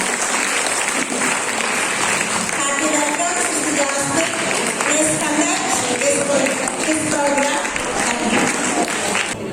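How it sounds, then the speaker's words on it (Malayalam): An audience at a memorial quiz competition claps warmly to welcome a Reverend Sister, sustained dense applause lasting about ten seconds with faint voices mixed in. "നിറഞ്ഞ കൈയടിയോടെ നമുക്ക് സ്വാഗതം ചെയ്യാം"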